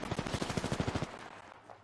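Rapid automatic gunfire from the video game Apex Legends, a quick burst of about a dozen evenly spaced shots over roughly one second, then a brief fading tail, fairly quiet overall.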